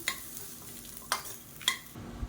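Vegetables being sautéed in a hot kadai in a home kitchen, a steady soft sizzle with three sharp scrapes of the stirring spoon, close and quiet, no voices.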